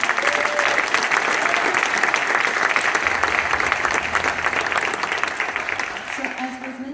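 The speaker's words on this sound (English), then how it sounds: "can we give them a round of applause?" An audience at a high school all-state jazz band concert gives a sustained round of loud, dense applause that tapers slightly toward the end, with a voice briefly heard over it.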